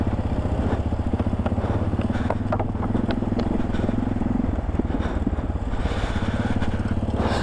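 A motorcycle rides over a rough, stony mountain road near Rama Lake in the Deosai region. Its engine drones loudly and steadily throughout, with rumbling buffeting and no speech.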